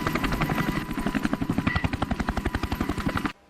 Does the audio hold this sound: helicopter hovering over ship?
yes